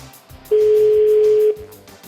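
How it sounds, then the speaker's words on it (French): The fourth ring of a French telephone ringback tone while a call is placed: one loud, steady single-pitch tone about a second long, standing out clearly against quiet background noise. "Quatrième sonnerie."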